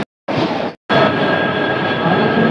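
A metro train at Akshardham metro station in Delhi rushes steadily past on the platform, its loud, continuous rumble and hiss filling the station after a brief opening burst.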